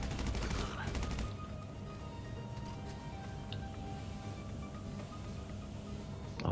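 Gunfire in the GTA video game, a quick rattling burst of shots at the start, then a quieter stretch with faint scattered sounds.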